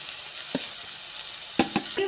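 Cauliflower frying with tomato in a pan for a home-style gobi palya, giving a steady soft sizzle with a few sharp stirring clicks and scrapes near the end, close up and fairly quiet.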